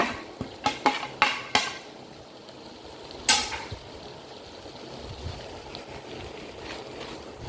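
Leeks and chilli stirred in a pan for chicken noodles, a few quick clinks of a metal utensil against the pan over a low, faint frying hiss.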